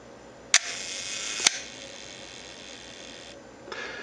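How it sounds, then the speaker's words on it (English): A Leica M rangefinder's shutter fires with two sharp clicks about a second apart, the curtain opening and then closing, followed by faint mechanical whirring over a steady background hum. "The shutter curtain should open up for a second, and after closing you'll hear a little bit of winding"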